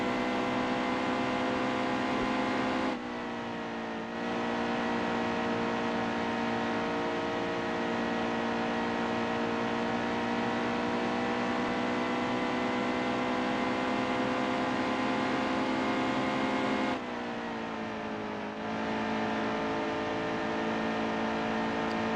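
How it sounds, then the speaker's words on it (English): Xfinity-series race car engine in the video game Nascar Heat 2, a steady loud droning whine held at high revs, dipping briefly twice as the throttle lifts through turns three and four, with no voices. "Because the Xfinity, you can basically just lay off the gas in 3 and 4"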